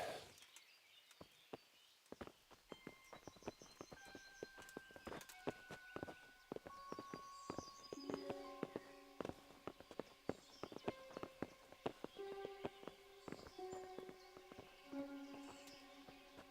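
Horse hooves clip-clop steadily in the medieval game Kingdom Come: Deliverance, close and continuous over sustained background music tones.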